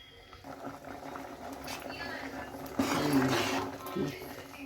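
Chappara avarekai huli curry simmering in a pot on the stove, a soft steady bubbling hiss running under close talk throughout.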